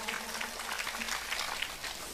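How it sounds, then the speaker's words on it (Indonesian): An audience at a congregational religious gathering applauds the event committee, a faint, steady wash of many hands clapping at a distance with no voices over it. "Saya minta tepuk tangan dulu dong buat panitia kita hari ini, luar biasa"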